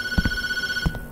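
A telephone rings twice inside the horror game Tattletail, each ring a short electronic trill sounding over a steady high electronic hum, clear and close with no voices.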